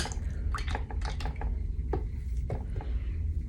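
A paintbrush swished and rinsed in a water cup during a mixed media art journal session, giving soft irregular drips and wet squishy splashes at close range over a steady low background hum.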